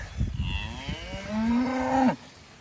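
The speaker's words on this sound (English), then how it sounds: "They should follow when they see the cattle coming through here." Cattle being moved from one pasture paddock to the next on a rotationally grazed farm, a single long, loud moo rising and holding near the microphone, with scattered low rustling and footsteps before it and quiet afterward.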